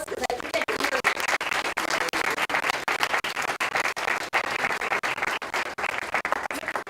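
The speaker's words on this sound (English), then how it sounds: "please give them a round of applause because I think they can hear" An audience in a courthouse applauds for high school students in a Law Day event, a steady wash of many hands clapping for about seven seconds with no talk.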